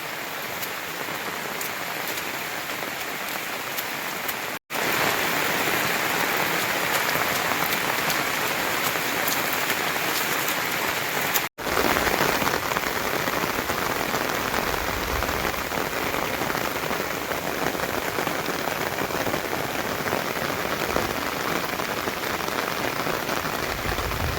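A heavy downpour pours steadily onto surfaces, a dense, loud hiss of rain that barely changes, with two very brief dropouts and no voices.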